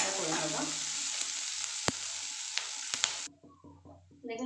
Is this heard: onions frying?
yes